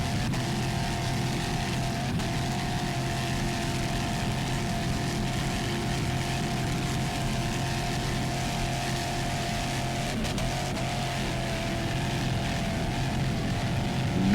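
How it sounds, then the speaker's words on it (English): Racing powerboat engine of a Super V Light Twin class at a 2001 APBA world championship race, a steady sustained drone held at high throttle throughout, heard from a moderate distance with no talk. "Nice throttling there by Ray Delaney."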